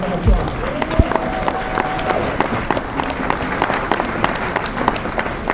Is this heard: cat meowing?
no